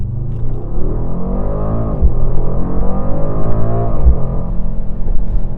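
A 2024 Mercedes-AMG GLE 63 S V8 accelerating hard, a loud close deep engine roar climbing in pitch through two gear changes, no talk.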